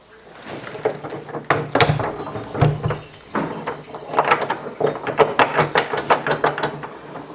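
Mechanical clicks and ratcheting clacks of a door lock bolt turning, several sharp metallic snaps in a row, close up with no talking.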